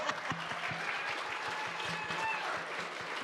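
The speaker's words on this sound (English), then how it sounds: "Let's give this woman an applause." Audience applause at an AI and media creation status report session, a steady dense wash of clapping held at an even level for about three seconds, with a low rhythmic thumping running underneath.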